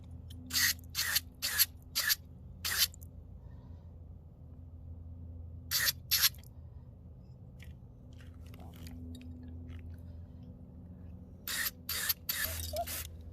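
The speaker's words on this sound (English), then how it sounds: "let's spray inside here." Short hissing bursts of aerosol cleaner sprayed on the mass airflow sensor of a Toyota MR2 Spyder, fired in quick clusters of three to five, against a quiet low hum.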